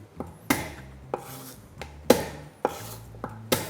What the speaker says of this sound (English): Need some garlic, oh, just for that flavour. About 3 cloves, I reckon. So just smash them.